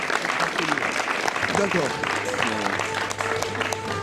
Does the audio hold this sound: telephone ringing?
no